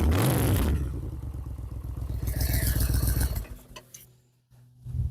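Motorcycle engine fitted with old Vance and Hines exhaust pipes runs loud and throaty up close, a heavy rumble that eases after a few seconds to a lower, quieter idle.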